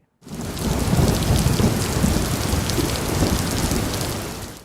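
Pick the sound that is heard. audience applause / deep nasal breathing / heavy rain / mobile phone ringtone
heavy rain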